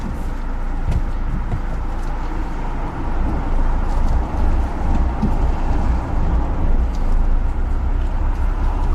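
A car engine hums steadily from inside the cabin, its low rumble swelling slightly as it picks up speed.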